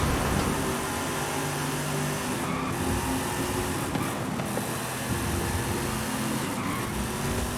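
A steady, deep V8 engine drone from a 1995 Chevrolet Corvette ZR-1 in the video game Forza Horizon 5 runs throughout, smooth and continuous, with a low rumble and a faint whine on top, no voices.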